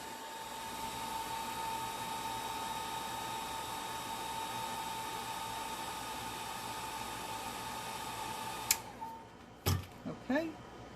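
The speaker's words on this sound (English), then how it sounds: "Use your dryer." A hair dryer runs steadily to dry a first layer of paint on a tile while painting a red flower, a constant whirring hiss with a faint whine, then cuts off near the end, followed by a few clicks and knocks.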